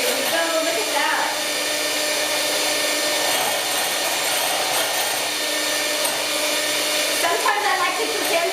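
An electric mixer beating eggs with cheese and green chili for a chile relleno quiche, a steady whirring drone that runs loud and unbroken throughout with small fluctuations, no talk over it.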